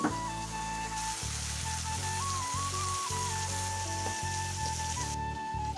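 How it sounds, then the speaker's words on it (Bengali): Fish frying in a pan gives a steady, continuous sizzling hiss that runs through the whole stretch, with sustained tonal humming sounds layered underneath. "মাছটা ওইদিকে ভাজা হতে হতে"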